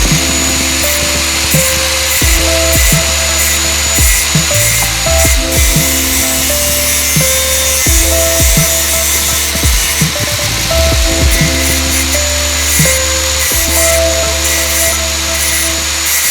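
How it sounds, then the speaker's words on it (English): Stop Tech sport brake pads for a Honda Civic are ground down with a power tool, giving a loud, continuous, harsh whine and rasp with recurring bursts and shifting pitch as the grinder works. "we're gonna have to grind this down. So I'm gonna do that now"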